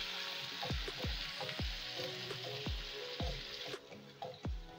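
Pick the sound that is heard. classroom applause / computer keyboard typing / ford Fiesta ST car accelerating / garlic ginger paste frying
garlic ginger paste frying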